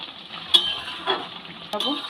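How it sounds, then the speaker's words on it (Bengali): Garam masala is stirred into a chana dal fritter (cholar daler bora) curry in a pan. A spoon makes a few soft, close scrapes and taps over a faint sizzle, with no talk. "এবার ভালো করে গরম মশলা দিয়ে নেড়ে নেবো"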